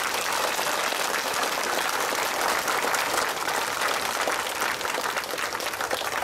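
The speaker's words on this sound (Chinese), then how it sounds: "唔該男女同胞一齊拍手。" Sustained crowd applause at a Malaysian political rally in Ipoh, dense and steady clapping from a large audience filling the whole stretch without a break.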